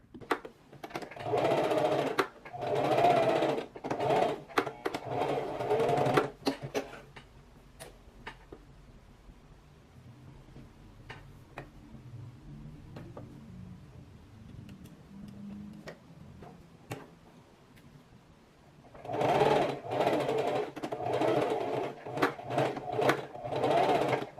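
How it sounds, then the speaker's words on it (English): A sewing machine stitches a swimsuit strap forward and back in several loud bursts of rapid, even stitching, separated by a quieter stretch of light ticks and handling clicks, close and without speech. "I do like to go over this a couple of times with both a front and back stitch just to make sure that it's super"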